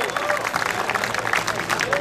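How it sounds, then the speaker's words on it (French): A crowd claps for a finalist at the axe-throwing final of the 2012 Saint-Raymond forestry festival, producing a steady, dense patter of applause that carries on for the whole stretch. "Une bonne main d'applaudissements, Cecil Star"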